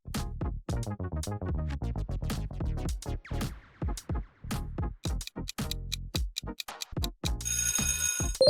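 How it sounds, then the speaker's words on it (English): The WhatsApp ringtone plays as a quiz sound, a quick run of bright plucked notes in bouncy repeated phrases, clear and alone, ending in a short burst of a different chiming tone. "You've heard it a million times. It's WhatsApp."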